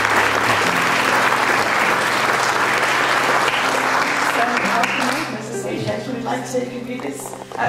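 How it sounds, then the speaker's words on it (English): An audience at an anniversary celebration bursts into loud, sustained applause for several seconds, close and dense, then fades as a voice begins speaking. "So please a round of applause for all."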